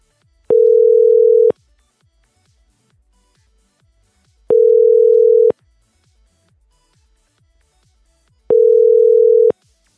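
A ringback tone plays on an unanswered phone call: three steady one-second beeps evenly spaced about four seconds apart, clear and loud, with near silence between them.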